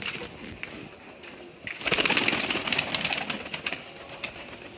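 A released pigeon coos on a farm, with soft intermittent calls and brief fluttering that grow louder partway through, with no talking.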